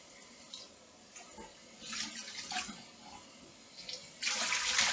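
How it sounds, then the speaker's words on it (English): Water splashes into a container being rinsed, with intermittent pours building to a louder, sustained gush at the end, close and with no talking. "first I'm going to put some water in here. We're going to rinse it a bit so that there's no dust"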